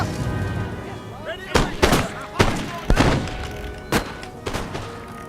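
Troops firing muskets in a Napoleon Total War battle, several loud sharp volleys cracking out in irregular succession over a busy battlefield din, with someone talking faintly beneath.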